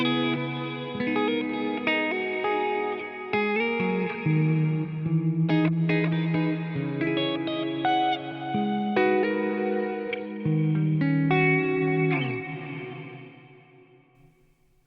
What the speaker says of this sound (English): Let's smear these delay repeats out and use the diffusion parameter. If I just turn this all the way up,